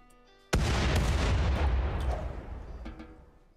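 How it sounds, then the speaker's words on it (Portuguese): Grenade explosions in the RimWorld video game, heard as a sudden loud booming blast followed by a heavy rolling roar that slowly fades over several seconds, with no talking. "Gabriel, granada."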